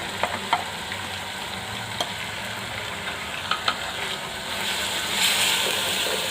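Coriander, chili and turmeric powder with salt roasting and stirred in a pan for mushroom korma, giving a constant close sizzle broken by spoon scrapes and taps, swelling louder toward the end.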